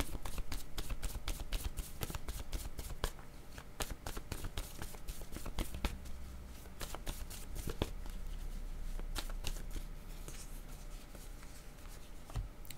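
Oracle cards are shuffled for a reading in a quiet, close, continuous flurry of rapid riffling and sliding, with no talking.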